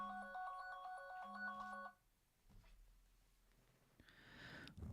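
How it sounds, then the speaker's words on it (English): A mobile phone rings with a repeating electronic melodic ringtone, two bright bursts of tones over about two seconds, then quieter rustling, a breath and a brief burst of noise. "Oh, excuse me. That's my phone."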